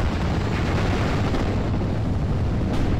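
A mortar carrier fires in the World War II strategy game Steel Division: Normandy 44, set at Omaha, producing a dense, continuous rumble of distant explosions and artillery booms with no break.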